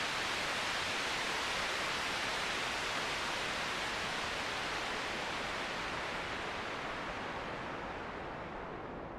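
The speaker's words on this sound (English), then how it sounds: "Otherwise, the ocean waves sound too metronomic." Synthesized ocean-wave sound design from mixed noise, a steady broadband wash with a soft slow swell, continuous and fairly loud for the whole stretch, with no voices.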